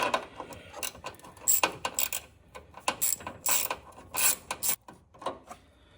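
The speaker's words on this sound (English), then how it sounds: "I like using sockets to put hose clamps on because you can get such a good tight seal on it." A socket ratchet tightens a hose clamp on an auxiliary transmission oil cooler, giving close, rapid bursts of ratcheting clicks in uneven spurts with short pauses between strokes.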